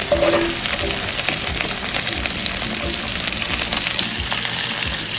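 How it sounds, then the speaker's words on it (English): Okra hits hot oil already popping with fenugreek seeds, cumin seeds and dried chilies, giving a loud, dense, continuous sizzle with crackles close up and no talking. "Now add in the okra."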